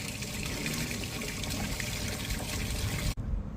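Water rushing steadily into a sanitary stack pipe during a plumbing test on a commercial building, a constant hollow gushing roar that cuts off abruptly near the end.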